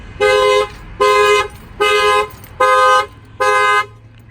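A Toyota 4Runner alarm tripped by its shock sensor blares five loud, evenly spaced harmonic horn-like blasts, each about half a second long, with no talking over them.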